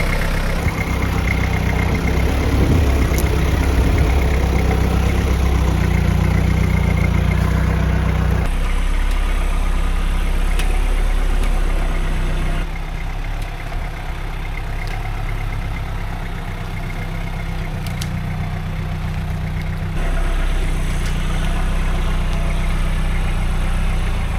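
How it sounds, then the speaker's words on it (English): Custom Toyota LN106 high-steer truck crawling over rocks, its engine a loud, steady low rumble that runs throughout, with the tone shifting and dropping slightly partway through as the load changes. "let's just go for a drive on some rocks"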